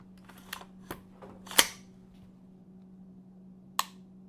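Sharp, dry clicks from a Geissele SSA-E rifle trigger being reset: a few quiet ticks followed by two crisp, louder clicks spaced apart, close up over a low steady hum.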